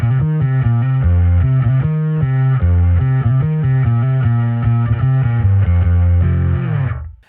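A bass guitar with both pickups engaged plays through a distortion pedal on a pedalboard, giving a loud, thick, gritty riff with separated harmonics. It runs steadily and then cuts off at the end, with no talk.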